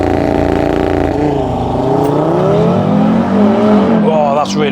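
An Audi RS3 launches hard under launch control, its engine roaring loud and close as the revs climb and the note rises through the gears, ending with a brief high squeal.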